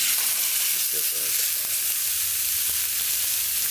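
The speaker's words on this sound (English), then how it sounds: "So while it fries for about a minute" A homemade hamburger patty fries on a stovetop, a steady bright sizzle held at even level throughout, with a few faint clicks and a brief low hum in the background.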